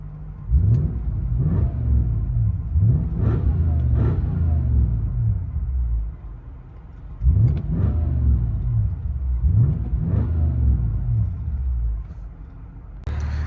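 A 1996 Lexus LS 400 with its 4.0L V8 and true dual exhaust with aftermarket mufflers revs up in several sharp, loud bursts, each falling back to a deep rumbling idle between pulls, close by with no talk.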